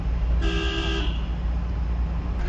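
A car horn sounds one steady, loud toot of about half a second. It happens during a driving lesson on a road in Sylhet, against a constant low engine rumble.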